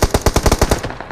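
Rapid automatic gunfire in the video game PUBG Mobile, a close, loud burst of about eight evenly spaced shots over roughly a second, then a quick fade.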